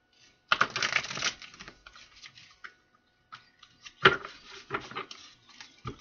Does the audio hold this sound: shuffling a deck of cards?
yes